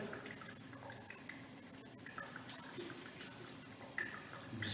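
Water flows through a constant head permeability test apparatus with a faint, steady trickle and gurgle, quiet and close, with small splashy surges toward the end.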